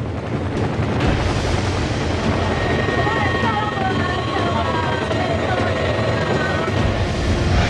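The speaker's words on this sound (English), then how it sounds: "Miraculously, the helicopter returns." A rescue helicopter flies back over floodwaters left by Typhoon Morakot in Taiwan. Its engine makes a continuous, fairly loud roar that swells after the first second and holds steady.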